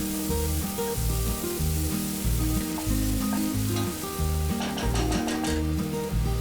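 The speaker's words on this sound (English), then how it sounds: "Then add 1 onion chopped and fry it until the onion is nice and soft." Chopped onion fries in a pan with a steady, loud sizzle and occasional stirring scrapes, continuous throughout with no voices; a repeating musical pattern plays underneath.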